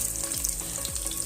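Panch phoron spices and onion fry in hot oil in a pan, giving a continuous close, even sizzle and crackle for a brief moment, with no talking.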